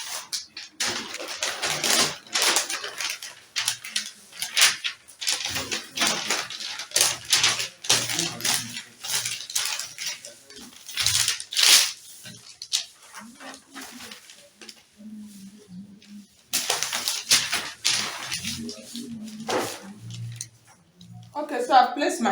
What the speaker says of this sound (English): so I'm going to take out another piece of paper and then cut it for you to see